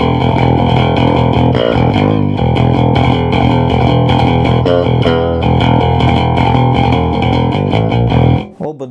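A custom electric bass guitar picked with a plectrum through its humbucker pickup, loud and close, with a continuous busy riff of bright attacked notes and effects colouring the tone before it stops at the end.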